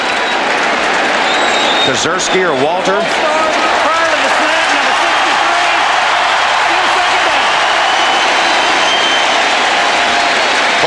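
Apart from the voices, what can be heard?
crowd noise in the RCA Dome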